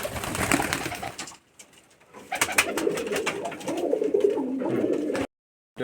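A pair of Giribaz pigeons from Rajshahi coo in low, throaty bursts. The cooing pauses briefly, then returns and continues steadily at close range.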